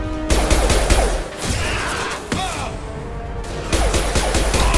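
An explosive shot is fired in the sci-fi shooter Mass Effect 2 Legendary Edition amid a loud firefight, with sharp blasts, whooshing projectiles and crackling gunfire.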